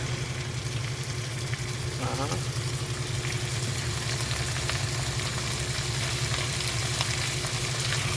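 Pork sautéing in a pan sizzles steadily and close, a continuous dense crackle under a low constant hum, with a brief scraping stir partway through and no talking.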